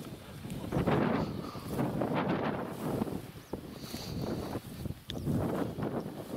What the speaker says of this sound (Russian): Ветер сегодня, вот какая волнистая поверхность.